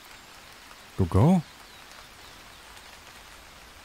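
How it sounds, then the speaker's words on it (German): Steady rain hisses throughout in the survival video game This Land is my Land, with a short spoken outburst cutting in briefly partway through. "Es regnet."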